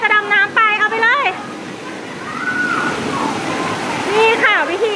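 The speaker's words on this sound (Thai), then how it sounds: "นี่ค่ะวิธีการหลบน้ำตกนะคะดำน้ำไปเลย" A steady rush of falling water from a waterfall at a beach resort pool in Pattaya, with splashing and a voice talking near the start and end.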